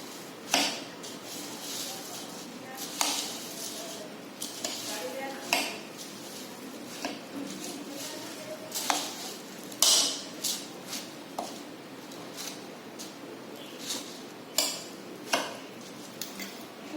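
Dry bhel ingredients tossed with chaat masala in a metal bowl, giving repeated sharp clinks and scraping taps of spoon on the rim at an irregular pace, close by, with faint voices in the background.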